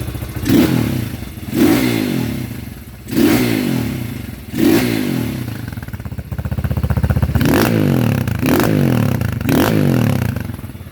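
A new 2021 Apollo Z40 dirt bike being kick-started, loud close bursts of engine sputter and rattle repeating in a rhythmic pattern, catching briefly before settling into a rough, steady run near the end.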